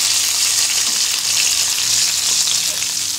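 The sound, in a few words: pan frying momos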